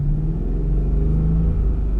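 A manual-transmission car engine rumbles low and steady at close range, with a slight rise in revs as gas is applied too soon while the vehicle stays in place.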